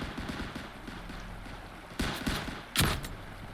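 In a shooter video game, a steady low rumble gives way to several sharp gunfire bursts and a louder blast that fits grenades exploding, with the hits coming a fraction of a second apart.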